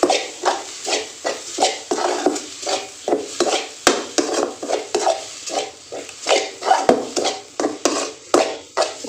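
A spoon scrapes and stirs crushed green chilli and coconut into drumstick leaf thoran in a pan, a rhythmic series of close scraping strokes roughly every half second, with a light sizzle underneath.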